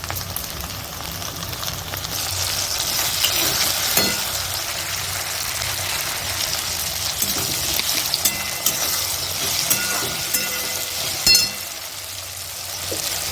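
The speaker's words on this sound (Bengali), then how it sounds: "আমি আদা দিচ্ছি আমি লঙ্কা আর এই টমেটোগুলো আমি দিয়ে দিলাম এগুলো আমি সব ভেজে নেব" Ginger, chillies and tomatoes frying in refined oil for a chicken dish, a loud continuous sizzle with stirring scrapes and occasional sharp crackles and clinks.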